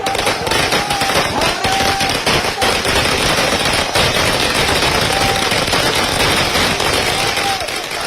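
Firecrackers burst at a political party workers' street celebration, a dense, rapid crackling barrage, loud and continuous, with a crowd's noise and faint whistles mixed in.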